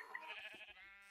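A single video game goat bleat, wavering and fairly faint, lasting about a second with no talking.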